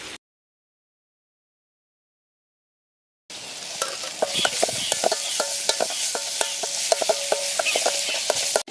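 Chopped tomatoes added to onions and garlic frying in a pan for a Chettinad country crab rasam, a loud close sizzle with repeated spoon stirring clatter for several seconds after a silent stretch.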